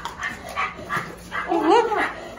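A dog gives short whining barks and yips close by, mixed in with people talking over it.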